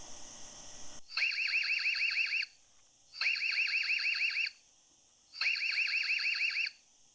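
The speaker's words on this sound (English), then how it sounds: "I have turned the alarm volume down in this video so you don't damage your ears" An EZVIZ CB8 security camera alarm siren, volume turned down, sounds in three loud bursts of rapid, pulsing warbling tones, each lasting about a second, with short silent gaps between them.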